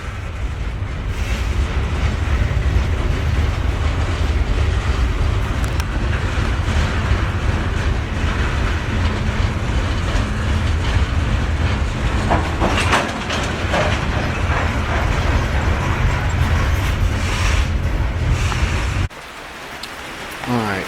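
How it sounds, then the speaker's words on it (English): A loud, continuous roar of a train rumbling past close by, steady and heavy for most of the clip before dropping away abruptly near the end. "This is what you see when you live next to a train track."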